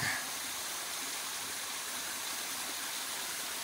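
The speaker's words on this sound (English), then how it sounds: "I know there's several people on this channel who have said they appreciate looking at waterfalls, so we're ending the day with a nice one." A waterfall on the Appalachian Trail roars as a steady, dense rush of falling water, constant and loud throughout without voices.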